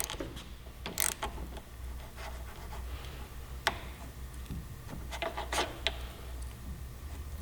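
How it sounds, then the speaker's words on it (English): A tool loosening the lever perch clamp on a Yamaha R3 sportbike's handlebar, giving light clicking ratchet ticks and small metallic knocks, close and intermittent over a faint background hum, with no voices. "I'm going to loosen up the perch"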